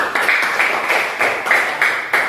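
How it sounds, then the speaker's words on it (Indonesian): Classroom students clap for a group in a rhythmic pattern, roughly eight crisp, evenly spaced bursts of joint clapping that are close and fairly loud, with no talking over them. "Tepuk tangan untuk kelompok 1"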